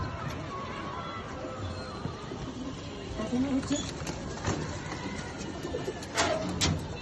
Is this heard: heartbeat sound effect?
no